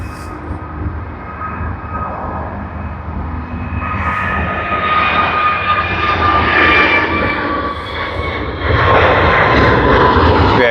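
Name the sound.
plane taking off at Sydney Airport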